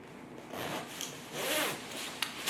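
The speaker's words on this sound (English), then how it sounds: "Let me just zip it up." A zipper on a $34 Walmart fall coat drawn up in one steady, close rasping pull lasting about two seconds, with no talking.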